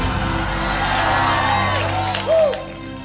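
A church congregation shouts and cheers in praise, a loud sustained crowd roar with scattered whoops and one rising cry near the end, voices blending throughout.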